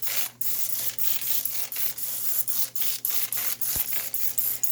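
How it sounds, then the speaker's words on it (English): Avocado oil misted from a Misto oil sprayer gives a run of short, crisp hissing bursts at a steady rhythm, close and fairly loud, with faint mechanical clicks of pumping between them. "I spray that with my misto"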